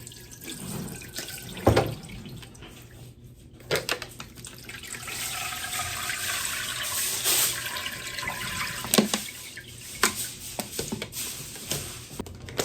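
Tap water runs steadily and splashes while a jar and meat pieces are washed at a kitchen sink, with faint clinks and drips rising over the continuous flow.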